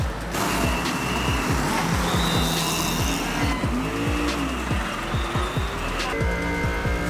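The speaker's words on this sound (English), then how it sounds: "a grid full of GT3 cars is about to be unleashed" GT3 race cars roar around the Macau street circuit during qualifying for the Macau GT Cup, loud engines rising and falling through repeated upshifts and downshifts, with several cars passing close by.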